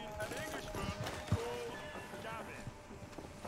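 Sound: horse hooves and neighing in a video game

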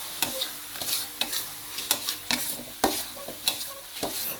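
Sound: stir-frying pork belly in a pan

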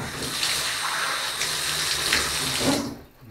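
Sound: water running from a tap while washing

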